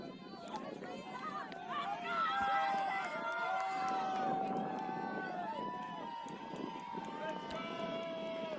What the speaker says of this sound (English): we hear Jinx getting loud on the sideline, cheering on their compatriots